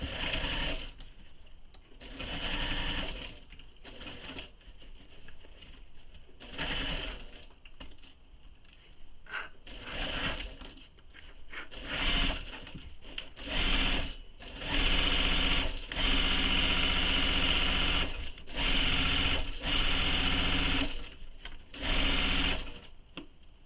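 A sewing machine stitches a fabric bag in repeated bursts of steady mechanical whirring with brief pauses between runs, close and fairly loud, with a voice talking quietly in places.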